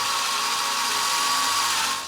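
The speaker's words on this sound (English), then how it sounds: "So, first thing first, drill the engine." A power drill bores into the engine frame of a Husqvarna 701 SuperMoto to prepare the hole for a helicoil thread insert, a continuous loud high-pitched whine held steady for the whole short stretch with no talking.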